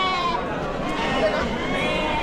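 Sheep bleating amid the crowd at a large goat and sheep market in Chakan, Maharashtra, a wavering animal cry over dense chatter and someone talking close by.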